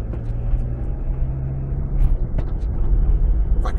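A car drives along a regional road as it enters a built-up area, with a steady low road rumble and engine hum from inside the cabin, swelling slightly as it moves on.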